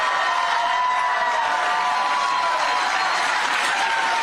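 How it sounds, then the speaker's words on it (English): A crowd in America cheers and applauds the Canadian flag, a dense, even wash of clapping and cheering that holds steady throughout. "In America now, they're cheering the Canadian flag."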